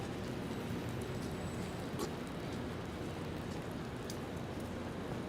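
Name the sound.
light rain falling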